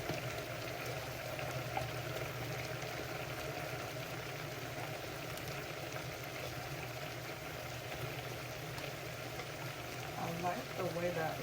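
Lamb simmering in a little water in a pan gives a steady, dense bubbling hiss that runs unbroken at moderate level, with faint background noise and no clear talk over it.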